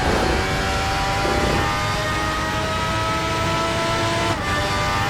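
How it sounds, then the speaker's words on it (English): An FRX-90 race car engine screams at high revs around Spa in a racing game, a loud continuous whine with rising harmonics and a brief dip as if shifting or lifting near the end. "Listen to that engine screaming!"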